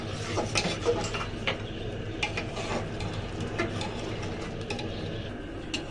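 A spoon stirs and scrapes through spicy chotpoti in a pan, giving repeated small clinks and taps over a soft sizzle, steady and close, with no one talking.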